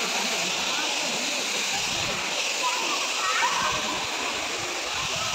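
Kudlu Falls, a waterfall, pours with a constant broadband roar and splash that fills the whole stretch evenly and stays loud and near.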